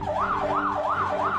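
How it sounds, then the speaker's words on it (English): The siren of a Force Gurkha 4x4 firefighting and rescue vehicle wails close and loud, sweeping up and down in a fast, regular rise-and-fall pattern about four times in quick succession. "This is how you operate the siren."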